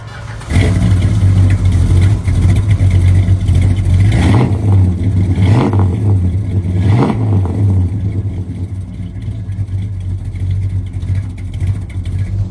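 A 1969 Dodge Charger R/T V8 starts up close by, settling into a loud, steady rumbling idle punctuated by three sharp throttle blips that rise and fall, then idling on alone.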